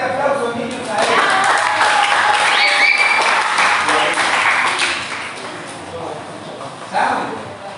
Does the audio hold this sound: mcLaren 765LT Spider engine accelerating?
no